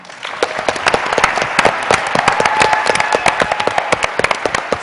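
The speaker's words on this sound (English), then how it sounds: "give a huge round of applause to our panelists, Danielle, Edgar, Molly, and Bill." Vigorous applause from a convention audience for a town hall panel, sharp loud claps packed close together with a crackling, popping texture, sustained throughout with no talk.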